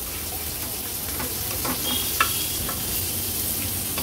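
Pomfret pieces fry in a small amount of oil on a griddle with a continuous close sizzle. Scattered sharper crackles and pops stand out near the middle, and no voices are heard.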